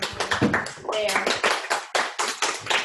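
Students clapping in a classroom, a run of sharp hand claps in an uneven rhythm, close and loud, with voices talking over and between the claps.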